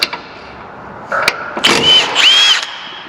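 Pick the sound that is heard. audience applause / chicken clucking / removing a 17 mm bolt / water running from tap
removing a 17 mm bolt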